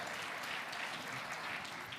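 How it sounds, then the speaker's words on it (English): Audience applause at a live developer challenge event, faint and distant-sounding, a thin steady patter of clapping with no clear individual claps. "Please applause."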